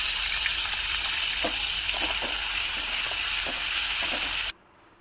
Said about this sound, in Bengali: ফোড়নটা হয়ে গেছে, এবার পেঁয়াজ দেবো।